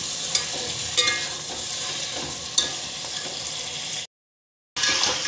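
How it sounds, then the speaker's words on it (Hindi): Mutton frying in oil with masala for a Punjabi mutton curry, giving a dense close sizzle with occasional sharp spoon knocks, a brief silent gap, then the frying resumes. "मटन हमने सारा डाल दिया फ्रेंड्स तेल में और इस मसाले के साथ इस मटन को हम 6-7 मिनट ये लगभग 10 मिनट हम भूनेंगे।"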